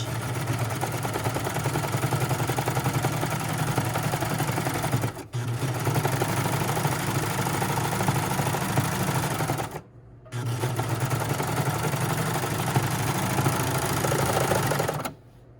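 Serger overlocking the side seams of a McCalls 8051 sewing garment, a fast steady mechanical whir running close and loud in three long bursts separated by brief pauses.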